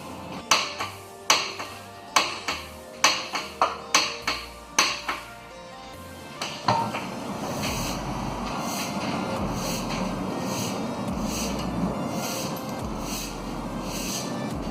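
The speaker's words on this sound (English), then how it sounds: "Just give it a little tap there with the hammer, and it should just fly off" Nine sharp metallic hammer taps on a 2004-onward Toyota Corolla lower ball joint ring out in a quick rhythm, close and resonant, followed by a steady mechanical rumble and hum with no voices.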